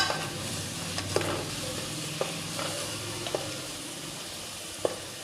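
Masala frying in oil for a Rayalaseema mutton dish, a steady close sizzle with a few soft taps of a stirring spoon against the pan, no voices.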